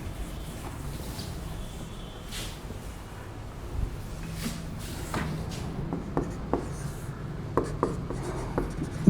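Chalk or marker scratching across a board during a Class 12 physics lesson on electromagnetic waves, steady quiet writing strokes with a few sharper taps toward the end, no voices.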